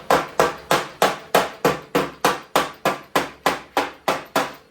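A hammer strikes a burning nut during MIG welding work, landing about fourteen sharp, evenly spaced metallic blows in quick succession, loud and close, each ringing briefly before the next.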